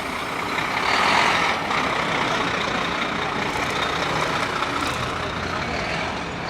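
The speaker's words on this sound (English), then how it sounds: "As we maneuver around the express bus." Steady roar of dense Manhattan city traffic around an express bus, with heavy engine rumble and a faint beep, loud and continuous throughout.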